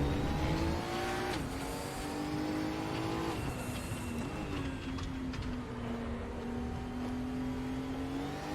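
In a VR racing game, a Group 5 race car's engine revs high and wavers as the rear tyres spin up and squeal on a corner exit, loud and continuous with no talking.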